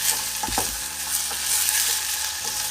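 Sweet and sour sauce with red capsicum cooking over medium to high heat, a loud continuous sizzle with occasional stirring scrapes and bubbling, no speech.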